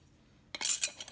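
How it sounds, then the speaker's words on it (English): A lid is fitted onto a canning jar of dill pickles, giving a brief cluster of metallic clinks and scrapes after a moment of near silence, close and soft. "Jim is putting the lid on."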